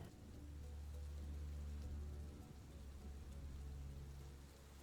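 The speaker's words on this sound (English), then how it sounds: "And there's a storm raging on. There's lightning up ahead, above you, and the wind and the cold rain is falling down." A storm rages with cold rain falling steadily under a low rumble of thunder and wind, all very faint and far-off.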